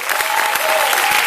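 Dense audience applause fills a theater as a guest from a film cast is welcomed on stage, a steady wash of clapping hands that stays loud and even throughout without pause.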